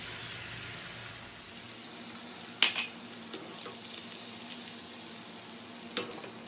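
Eggs sizzle in oil in a pan with a soft, steady frying hiss, broken by a couple of sharp utensil clinks against the pan and quieter scraping and stirring noises.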